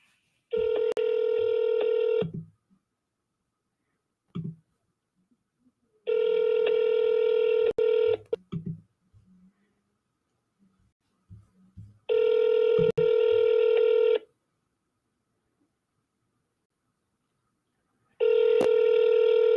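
On an outgoing phone call the line rings back four times, each a steady electronic tone about two seconds long. Long silences separate the rings, with faint handling noise and brief murmurs in between.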